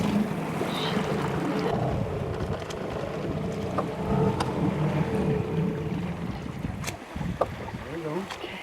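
A Mercury 5 hp outboard motor runs on an old rowboat, a continuous low droning engine hum outdoors with wind buffeting the microphone and voices talking over it now and then.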